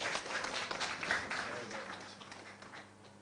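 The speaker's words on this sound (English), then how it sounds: "A round of applause for him." Audience applause for Dr. Ato Forson, leader of the NDC caucus, at a party event in Ghana. Broadband clapping that swells, then fades gradually over a few seconds, with a murmur of voices underneath.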